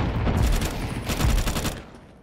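Rapid automatic gunfire in Counter-Strike 2 comes in two dense bursts of loud, sharp reports, separated by a short pause, then trails off with no talk over it.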